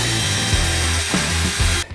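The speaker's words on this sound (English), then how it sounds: "we're actually gonna have to drill through this because it doesn't match with the holes that are currently drilled in the Storyteller" A power drill bores through metal with a metal drill bit, mounting holes for a paper towel holder in a 2022 Storyteller Overland van, whining steadily and loud with slight pitch dips before stopping abruptly near the end.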